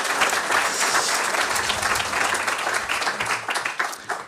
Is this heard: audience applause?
yes